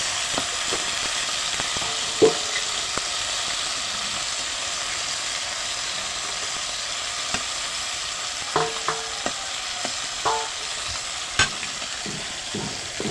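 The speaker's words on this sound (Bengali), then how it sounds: "মাছগুলো আমি খুব সুন্দরভাবে এধার ওধার করে চারিদিকে খেলিয়ে দেবো" Koi fish frying in oil in a pan make a loud, steady sizzle, close up, broken by occasional sharp utensil clicks as the fish are moved and turned. No voices are heard.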